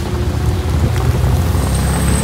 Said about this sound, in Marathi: लगेच पाऊस चालू झाला आपला